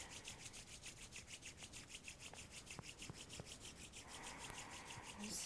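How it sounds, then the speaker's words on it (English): During a bedtime Kundalini yoga session, palms rub together before the chest in a quick, steady rhythm of soft, hissing strokes, faint and close, with no talk. "Go ahead and rub your palms together in front of your chest."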